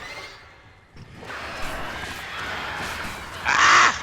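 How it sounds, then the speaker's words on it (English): Crows caw and screech as birds attack in the video game Alan Wake Remastered, a rising flurry over a dark ambient bed, ending in a loud, harsh burst of squawking near the end. "Birds! Oh, fuck. Birds!"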